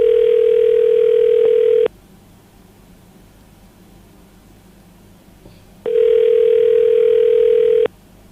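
Telephone ringing tone heard while a radio station calls a listener for a Christmas competition: two long, loud ring bursts about four seconds apart with quiet line hiss between them.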